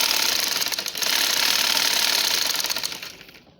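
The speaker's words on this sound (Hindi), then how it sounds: "बिल्कुल किनारे किनारे के ऊपर हम जो है सिलाई लगाएंगे" Sewing machine running a line of stitching along the edge of fabric with thick dori piping, a fast, steady mechanical chatter heard up close, then slowing and stopping at the end.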